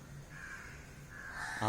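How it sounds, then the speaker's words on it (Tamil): A crow caws twice, a drawn-out harsh call followed by a second call that grows louder at the end, standing alone over a quiet background. "கா என்று காகம் கரைகிறது"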